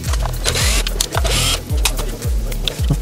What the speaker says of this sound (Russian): Откручиваем нижний и задний бампер.